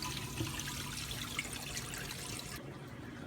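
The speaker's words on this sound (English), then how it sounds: "the sand filter getting back flushed" Running water from a pond sand filter being backflushed, a steady close rushing flow that continues without pause until the level drops slightly near the end.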